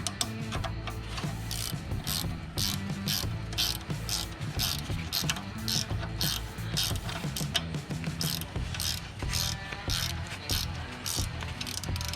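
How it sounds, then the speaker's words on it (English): A ratchet spanner working on VW rear brake caliper bolts, a steady, fast clicking ratchet rhythm close up and continuous throughout, with no talking. "then you get your 15 spanner at the back and 13 at the front"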